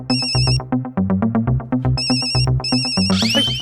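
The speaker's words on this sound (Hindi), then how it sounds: "जेठा भाई का फोन है।" A telephone ringtone plays loudly and alone, a repeating electronic melody of quick bright notes with short high trills between phrases.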